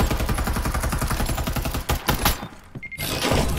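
Dense rapid-fire gunfire from a fast-firing weapon in the battle royale game Farlight 84, loud and continuous for most of the stretch, with a brief lull near the end before the shooting resumes.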